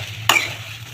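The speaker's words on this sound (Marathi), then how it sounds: "छान असा फ्राय करून घ्यायचा आपल्याला मिक्स करून घ्यायचा" A single quick scrape of a spoon stirring sago frying in a pan, a short bright stroke over a faint steady sizzle, close and quiet with no talking.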